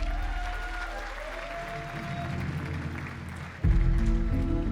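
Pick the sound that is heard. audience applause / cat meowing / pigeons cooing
audience applause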